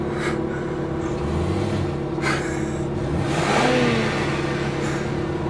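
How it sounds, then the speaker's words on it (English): An exotic car's engine revs up and down several times, rising and falling in pitch over a steady idling drone, fairly close with no talking. "Revving his engine."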